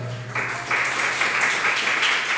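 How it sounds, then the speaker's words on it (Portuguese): Congregation applauding at an evening church service, a broad wash of clapping that swells after a brief pause and holds steady throughout, with a low sustained musical tone underneath. "Pode aplaudir o Senhor nessa noite."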